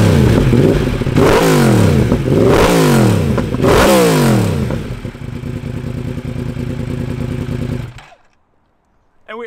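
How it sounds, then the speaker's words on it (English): A Yamaha MT-10 naked motorcycle fitted with an Akrapovic exhaust revs hard three times in quick succession, loud and close, each rise and fall sharp, then idles roughly before cutting to silence. "And this is the sound of the Akrapovic."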